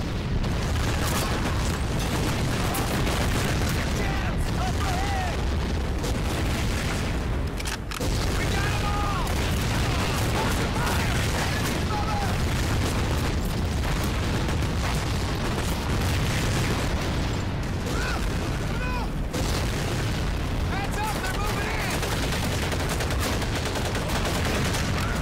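A close-quarters weapon is hip-fired during a last stand against a banzai charge in Medal of Honor Pacific Assault, a dense, continuous barrage of loud shots and booms with a voice talking over the battle.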